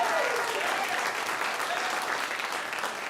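A comedy show audience breaks into steady applause, a dense even wash of clapping that holds for a few seconds, slightly distant.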